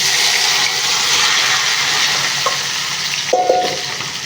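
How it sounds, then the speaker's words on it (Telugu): Okra frying in a pan gives a loud, constant sizzle up close, with a brief utensil clink near the end and no speech. "ఇప్పుడైతే మనం ఇందులో బెండకాయలు వేసుకొని వేంపేసుకుందాము"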